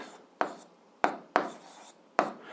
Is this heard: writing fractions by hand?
yes